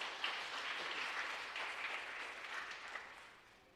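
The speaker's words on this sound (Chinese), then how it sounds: "我们拍手欢迎他" A church congregation claps during a Sunday worship service to welcome a guest speaker, giving steady, even applause that stays somewhat distant and soft throughout.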